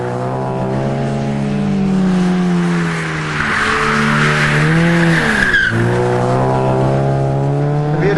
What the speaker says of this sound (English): Rod applies the handbrake, which pushes the back of the car around and helps steer it through the corner